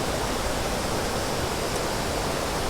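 Steady broadband roar of a waterfall on Anglesey, an even, unbroken rush of falling water at moderate level with no voices over it.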